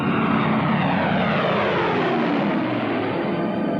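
World War II Allied propeller planes take off from a muddy airfield, their engines roaring loud and steady, a dense drone with a slight pitch sweep as the aircraft pass.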